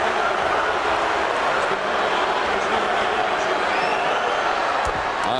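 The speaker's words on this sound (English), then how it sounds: "the crowd's making so much noise" A loud, dense basketball crowd roars nonstop inside a college gym during a men's game between Seton Hall and Rutgers, a steady wall of voices with a few sharp slams and bounces rising out of it.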